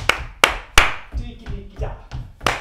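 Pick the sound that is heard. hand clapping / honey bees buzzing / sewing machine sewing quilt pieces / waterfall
hand clapping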